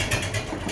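A Farmall 450 LP tractor engine catches after a balky start and settles down to a steady low idle, a continuous rumbling drone close by.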